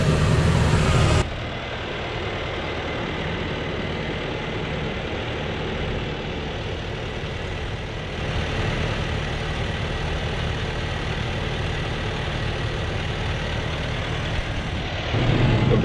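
A John Deere 5100R tractor crawls at under 3 km/h while sowing onions with a Monosem seeder, its engine a steady, even diesel drone throughout, close by and unbroken, with no voices.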